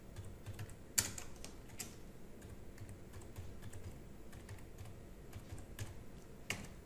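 Keys clack steadily on a computer keyboard while text is entered in Notepad, a quiet, irregular patter of close taps with a few sharper strokes and no speech.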